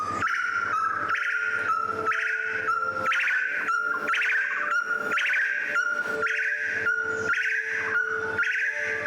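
Loud, repetitive calls of a red-breasted partridge ring out in a steady rhythmic series in Borneo's Crocker Range, close and continuous, with harmonic notes rising and falling over a faint background of other birdsong.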